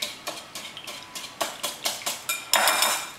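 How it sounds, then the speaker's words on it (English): A whisk beating batter of milk and salt in a bowl, quick rhythmic clinking strokes against the sides repeated about a dozen times, ending in a faster continuous rattle, close and clear. "just make sure that you whisk until it gets well incorporated"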